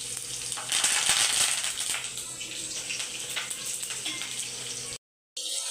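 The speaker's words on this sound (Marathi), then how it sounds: "आपलं टेचलेलं लसूण घालायचं आहे आणि कढीपत्ता घालायचा आपल्याला" Cumin, crushed garlic and curry leaves fry in hot oil in a pan for a dahi kadhi bhaji dish, a steady close sizzle swelling early, then a brief silent gap before the hiss resumes, no talk.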